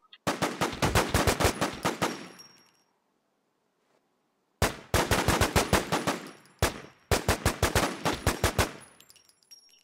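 Rapid automatic gunfire in the War Z video game, three loud close bursts of evenly spaced shots separated by a brief pause, no talking.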